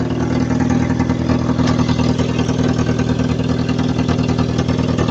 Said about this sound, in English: So that silencer is blowing for sure.